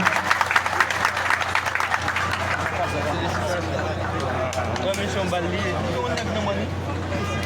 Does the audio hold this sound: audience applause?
yes